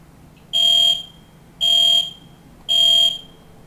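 A building fire alarm sounds three loud, evenly spaced electronic buzzes about a second apart, each a steady high tone with silence between.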